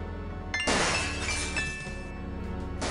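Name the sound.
glass breaking in the video game Gabriel Knight: Sins of the Fathers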